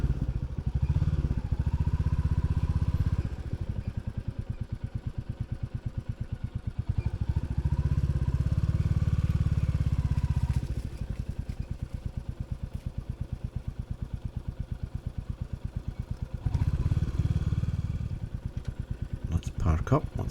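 Motorcycle engine running as the bike rolls up to park near a Dundee castle, a steady low rumble with rises and dips in revs, loud and close throughout, with wind buffeting.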